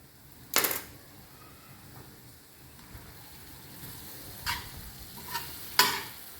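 Tomatoes with salt being stirred on a hot tawa, a low steady sizzle with a few sharp scraping clicks of the spoon against the iron, quiet and close.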